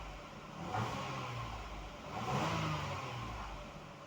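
Toyota Highlander engine revving twice as the gas pedal is pressed, two swelling rises of medium engine roar over a steady idle, with little change in pitch between them and no voices.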